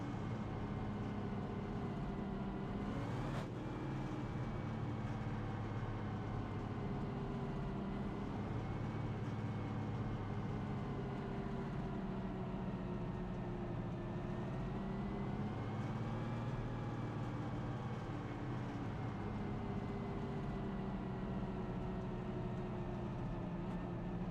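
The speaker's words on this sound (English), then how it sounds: "Let's ride on board with the 1 and see if we can hear that motor, or if it's running funny or not." A stock car engine drones steadily from an onboard view at Bristol in a racing video game, a continuous loud motor hum with a brief shift-like blip early and slight pitch swells, no talk over it.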